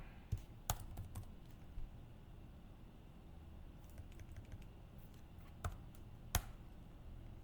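Keys tapped on a computer keyboard while a terminal command is entered, a few sharp clicks scattered over a quiet, faintly hissing room with no speech.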